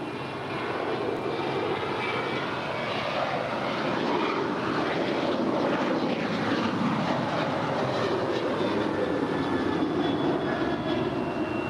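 Steady roar of United airliner jet engines on the runway at LAX, a broad continuous rumble and whine holding at an even level throughout, with no voices.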